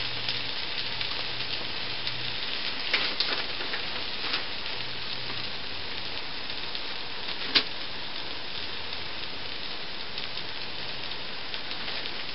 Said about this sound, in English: Okay, the egg is cooking.